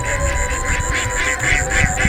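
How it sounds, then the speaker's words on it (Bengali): A duck farm holding over five hundred ducks, with loud, continuous, overlapping quacking that pulses in a quick repeating rhythm from a nearby flock. "ইনে আমার 500 উপরে আছে হাঁস"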